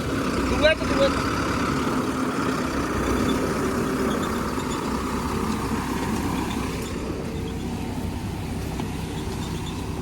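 A tractor engine runs steadily in a potato field during potato planting, producing a loud, continuous close-up drone that holds throughout with little variation.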